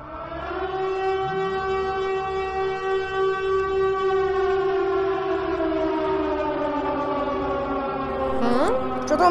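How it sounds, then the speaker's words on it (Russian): A siren in the video game Melon Playground wails loud and steady, its sustained tone slowly falling in pitch throughout, then sweeping sharply upward near the end. "Странно, сирена какая-то играет"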